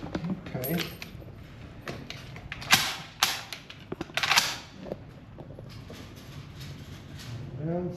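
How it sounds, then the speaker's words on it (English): Metallic clicks, clacks and rattles as someone struggles to seat a magazine in an M1 Garand rifle, several sharp handling knocks in an uneven sequence, close up, with a little talk in the background. "This magazine's not wanting to slot in."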